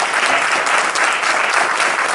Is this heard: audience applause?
yes